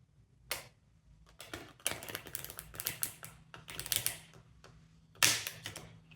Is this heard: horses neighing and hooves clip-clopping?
no